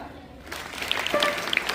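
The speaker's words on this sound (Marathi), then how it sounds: "टाळ्या वाजवा" An audience at a high school function breaks into applause after a short quiet moment, and the clapping quickly thickens into an even patter that continues to the end.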